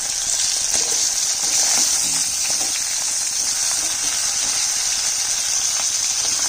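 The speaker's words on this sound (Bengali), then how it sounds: "মাথাটা ভেজে নিচ্ছি।" A fish head, from catla, frying in hot oil in a home kitchen pan, giving a steady, loud, hissing sizzle that runs unbroken, with faint scrapes and light rattles of stirring scattered through.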